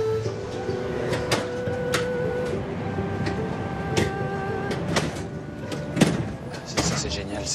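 A high-speed train rumbles steadily, broken by sharp clacks and knocks, while people talk throughout.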